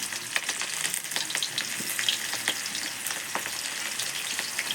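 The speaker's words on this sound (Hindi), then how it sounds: "ये मैं डाल रही हूँ हींग, और अब डाल रही हूँ प्याज" Onion frying in hot oil with cumin and asafoetida, a loud, close, continuous sizzle with crackles and stirring clicks, no talking.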